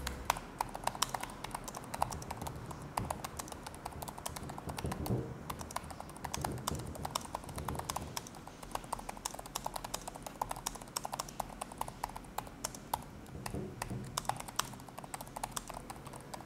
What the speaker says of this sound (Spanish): el sonido del teclado, como podrás ver ahora, es bastante satisfactorio.